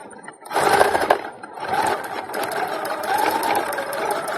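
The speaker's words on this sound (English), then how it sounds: "now I'm going to go ahead and just straight stitch right over it" A sewing machine running a straight stitch over gathered leotard fabric, a steady close mechanical whir that starts abruptly, surges, dips briefly and continues at an even pace without talking.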